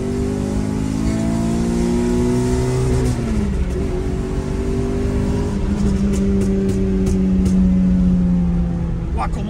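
A Renault Clio 3 RS Cup engine revs hard toward 8000 rpm, a loud continuous climbing drone heard from inside the car, with rising harmonic sweeps, one brief dip and the pitch pushing upward again while excited voices talk over it.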